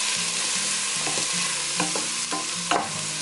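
Aromatics sizzling and frying in a pan for a huckleberry whiskey BBQ sauce while being stirred, with a steady close hiss and several distinct scraping stir strokes throughout, no voices.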